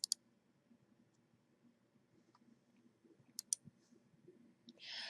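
Sharp computer mouse clicks, a couple of close, crisp taps at the start and another pair a few seconds later, in an otherwise quiet room.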